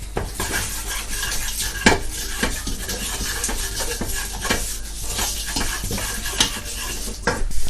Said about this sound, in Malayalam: നമുക്കിതെല്ലാം നല്ല രീതിയിൽ മിക്സ് ചെയ്ത് കൊടുക്കാം.